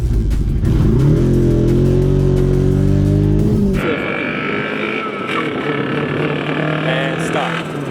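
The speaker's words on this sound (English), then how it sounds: "So this thing definitely has rod knock now, really bad." Race car engine with bad rod knock, running on straight Marvel Mystery Oil, revving loudly with a rising, rough drone up close that then drops to a lower, rattling run.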